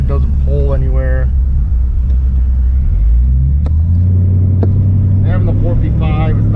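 A customized 1953 Oldsmobile 98 sedan with a 455ci engine and A/C drives along, its steady low engine rumble and road drone continuous throughout, with someone talking over it at the start and end.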